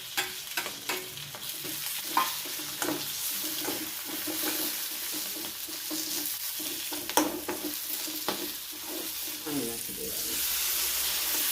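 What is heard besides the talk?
chillies frying and sizzling in a pan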